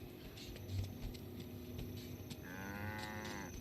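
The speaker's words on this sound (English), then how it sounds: "What's up with the cows?" Cattle mooing in the Guild Wars video game, a drawn-out low bovine call that swells near the end over steady game ambience and scattered clicks.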